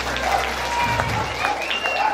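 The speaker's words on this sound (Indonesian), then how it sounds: "Ini tepuk tangan buat penabuh." Short burst of steady clapping from an audience at a Balinese Ramayana dance-drama performance, applauding the gamelan players, with crowd murmur and voices mixed in.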